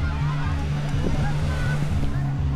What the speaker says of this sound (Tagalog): Ayan yung dagat to.